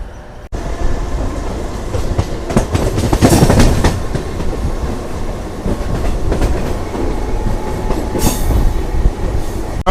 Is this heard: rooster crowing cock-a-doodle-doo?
no